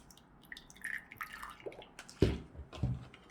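Slime activator poured into a glue and baking soda mixture, small wet drips and splashes at close range, faint at first, then a few sharper liquid drops near the end.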